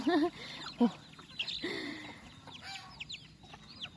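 Chickens clucking on a Lao farm where ducks and cattle are also kept, a few short close calls near the start followed by softer scattered clucks and chatter over outdoor background noise.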